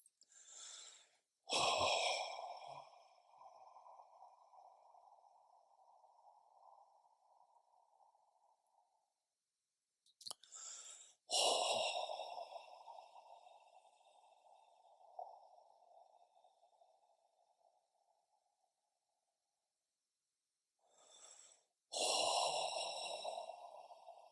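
Slow, deep breaths during a guided meditation at a nunnery: three long audible exhalations, each a sharp intake followed by a drawn-out sighing release, well spaced with quiet between, close and soft.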